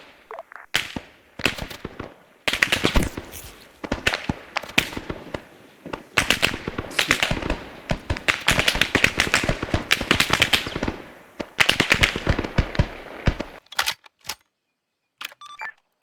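High-explosive artillery barrage landing in a Vietnam War video game, dense rapid blasts and cracks rolling through in clusters, loud and near, tapering off into scattered bangs and a brief quiet at the end.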